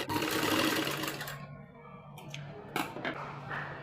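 A sewing machine runs steadily while stitching a border onto a baby frock, a continuous whir that eases off partway through and then returns with lighter bursts of stitching.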